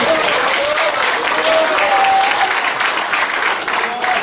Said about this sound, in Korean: 이해가 되시면 박수 한번 쳐주세요